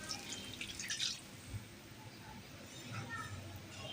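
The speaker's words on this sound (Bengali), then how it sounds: "এখন পরিমাণ মতো 2 মগ পরিমাণ কুসুম গরম পানি অ্যাড করে দিতে হবে।" Lukewarm water is poured into a pot of beef korma, splashing and dripping in uneven bursts while a voice talks over it.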